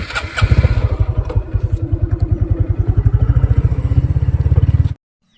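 A motorcycle engine started in hot sun on a rural road, settling into a loud, close, steady chugging for about five seconds before cutting off abruptly into silence.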